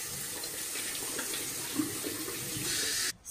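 Water running steadily from a bathroom sink tap while a face is rinsed, with light splashing, then the flow cuts off.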